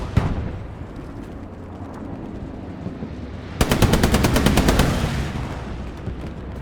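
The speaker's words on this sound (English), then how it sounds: "you can definitely hear the MG going off" A burst of rapid machine-gun fire in a WWII strategy video game rattles out loudly for about a second and a half midway through, set against a steady rumbling battle ambience.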